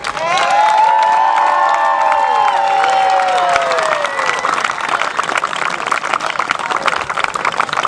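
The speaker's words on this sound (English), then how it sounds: "a big round of applause for 2007 International Jousting competitors." A large crowd at a 2007 Celtic faire jousting championship applauds loudly and continuously, with cheers and whoops rising over the clapping, then settling into sustained applause.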